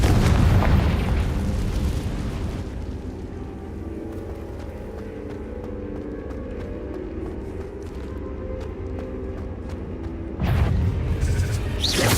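In Hogwarts Legacy, the fire spell Confringo bursts into a loud, roaring explosion that decays into a low, rumbling tail, then a second heavy blast hits near the end.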